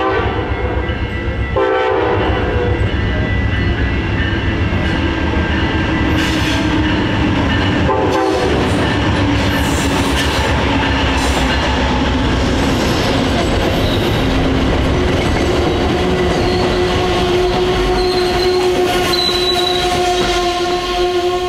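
Amtrak Michigan service train hauling a baggage car passes close by, loud and continuous, with horn blasts, rhythmic clickety-clack of wheels and some squealing as cars roll past.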